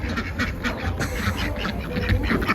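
Farm ducks in cold winter weather quack in a run of repeated, fairly close calls over low background noise, with no talking.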